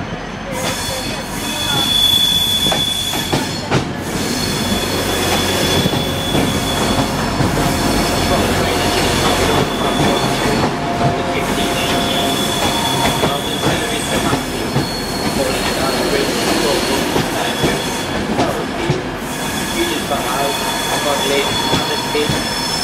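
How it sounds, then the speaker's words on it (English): Virgin Pendolino train arriving into Manchester station, with steady loud rumble of wheels on rails and squealing as it runs in, continuous from inside the carriage. "is a Virgin Pendolino. We're arriving into Manchester station."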